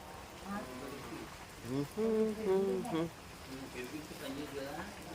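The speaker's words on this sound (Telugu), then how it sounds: "ప్రకృతి చూసారా సమయానికి వర్షం పడుతుంది" Steady rain pattering down on leaves in a village while a person talks over it, the voice rising louder in the middle.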